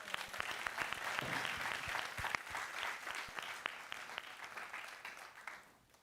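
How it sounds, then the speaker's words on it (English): A town hall audience claps for a speaker, steady dense applause that fades out at the end. "So clap for our girl."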